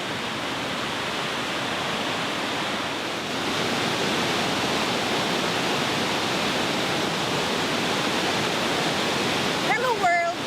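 A waterfall in Dalarna, Sweden roars in a steady, dense rush heard from about ten meters above, loud and unbroken, with a brief voice near the end.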